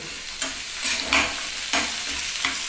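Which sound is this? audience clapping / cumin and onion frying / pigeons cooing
cumin and onion frying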